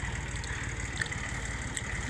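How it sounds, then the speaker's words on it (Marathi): A small tractor powering a machine for threshing millet runs at a steady, close idle, its low rhythmic engine throb continuous and unbroken with no voices. "मशीन पण आलंय आता छोटं ट्रॅक्टर आहे"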